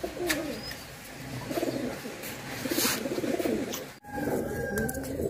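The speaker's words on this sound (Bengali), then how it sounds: "আর আমার কবুতরগুলা দেখেন কি সুন্দর" Pet pigeons coo in soft, repeated low calls close by, with a light rustle and background ambience around them.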